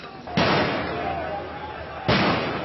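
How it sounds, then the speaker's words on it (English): Fireworks set off by protesters at a street demonstration in France, with two loud sharp bangs about 1.7 seconds apart, each followed by a rumbling decay, over a noisy crowd. "But as protesters let off fireworks, the authorities have the power to move them on."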